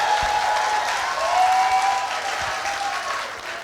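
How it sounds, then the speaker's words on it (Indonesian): Audience applause for ISI Yogyakarta students at a theatre performance evening, a dense, steady wash of clapping from a sizeable crowd that swells slightly midway and carries on without voices. "Mana tepuk tangannya buat mahasiswa ISI Yogyakarta."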